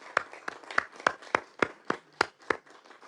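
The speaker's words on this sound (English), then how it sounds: "can we give a round of applause to all the graduates who will be graduating" Hand claps for graduating students at a general council meeting: about eight slow, evenly spaced sharp claps, close and clear, with no talk over them.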